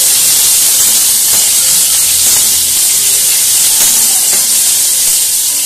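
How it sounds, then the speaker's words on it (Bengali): Loud, steady sizzling and hissing of chopped onion frying in hot oil, close up, with a few faint clinks and no talking. "তো পেঁয়াজটা ভাজা হতে থাক।"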